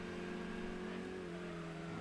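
Car engine from the racing video game Gran Turismo 2, likely a Honda, a steady loud drone with a sustained tonal hum running throughout without talk.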